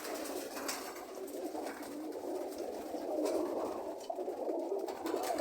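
A pigeon coos softly and steadily, close by against a faint, airy background, with no talking.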